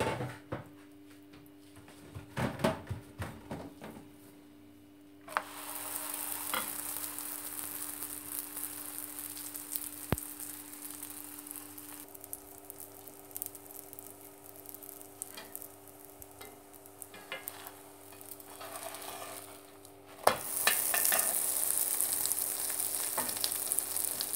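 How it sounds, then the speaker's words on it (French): Flour galette cooking in olive oil in a frying pan, with a steady close sizzle that swells louder partway through and again near the end, plus a few clanks from the pan and utensils. "Et je le mets dans ma poêle. Voilà, je mets un peu d'huile d'olive."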